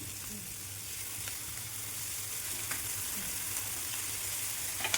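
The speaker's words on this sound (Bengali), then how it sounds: "জাস্ট এখানে হালকা একটু হালকা হাতে নাড়াচাড়া করে দেবো" Chicken filling for crispy samosas sizzles steadily in a pan with pepper and tomato sauce, gently stirred, a continuous close frying hiss with faint scraping taps.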